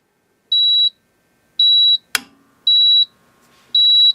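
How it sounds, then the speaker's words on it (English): A NAVAC NRC62i smart charging machine runs its startup self-diagnostic, sounding a series of evenly spaced, high, clear electronic beeps, each about half a second long, with a single sharp click between them and no talk. "When I turn on the machine, you'll hear a series of 7 beeps. The machine is going through a self-diagnostic check."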